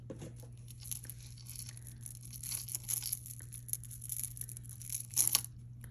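Tape peeled off a jewelry package makes soft tearing and crinkling close by, with a louder rip near the end over a low steady hum.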